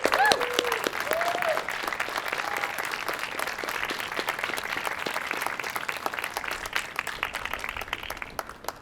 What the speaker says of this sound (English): can we get another round of applause for all the artists?